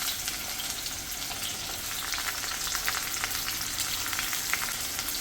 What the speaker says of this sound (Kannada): ಎಣ್ಣೆ ಬಿಸಿಯಾಗಿದೆ. ಈರುಳ್ಳಿ ಹಾಕ್ಕೊಳ್ತಾಯಿದ್ದೀನಿ.